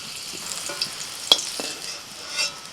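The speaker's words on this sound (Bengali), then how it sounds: "তেলের মধ্যে ফোড়নে দিচ্ছি তেজপাতা" Bay leaf dropped into hot oil for tempering, producing a soft crackling sizzle with a few sharp pops, one standout crack midway, and a brief swell of frying near the end.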